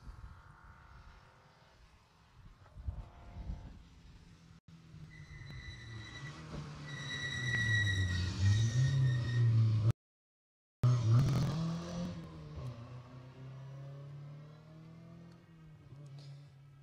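Rally cars at a Jersey Rally stage pass by, with an engine note rising and swelling through a closer pass, then fading. Sound is fairly faint and distant overall, with a brief dropout partway through.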